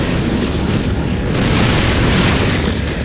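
Siege tank cannon fire and explosions tearing into roaches in StarCraft, a loud, continuous rumble of booming blasts with no pauses, heavy and close throughout.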